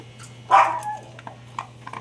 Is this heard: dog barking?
yes